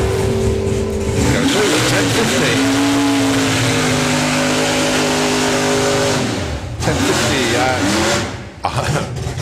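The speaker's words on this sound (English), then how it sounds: "So the Plymouth stage, and off it goes." A Plymouth hot rod launches hard down a drag strip, its engine roaring loud and near with rising revs that then fade as it pulls away, while a commentator talks over the run.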